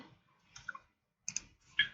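A few soft clicks from a computer keyboard while entering a Linux command, with a light isolated keypress near the start, two quick taps midway and a firmer final press, faint and close with quiet pauses between.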